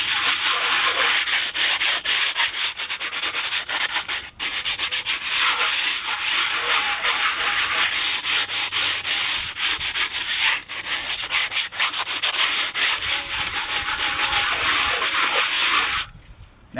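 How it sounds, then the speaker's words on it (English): Crumpled aluminum foil scraped across a barbecue grill grate, a loud continuous gritty rasping with steady back-and-forth strokes, close up and alone, briefly pausing near the middle and stopping at the end. "I'll just take this piece of aluminum foil, bunch it up, and just go around and scrape that off"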